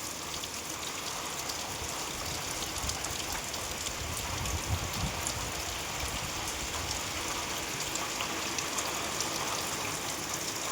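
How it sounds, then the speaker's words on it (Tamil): Heavy rain falls steadily, making a dense, even hiss of drops on surfaces that holds at a constant level throughout, with no voices. "ஆனால் சரியான மழை, நல்லா மழை பெஞ்சிட்டே இருக்குது."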